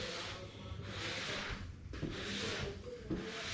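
A squeegee rubs vinyl stripe material onto the body of a 2022 Mustang during a custom stripe kit install, giving close, steady scraping strokes in three or four broad passes with brief pauses between them.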